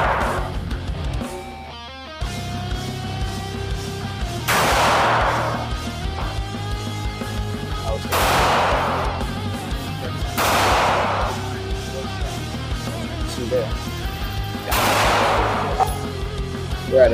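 Four loud rifle shots go off at an outdoor range at roughly 8 yards, spaced several seconds apart. Each sharp crack rings out over steady background noise.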